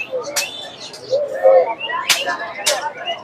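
Pigeons at the Hasnabad pigeon market, with soft close coos and short chirping calls mixed with sharp rustles of wings or cage movement, set against quiet market background.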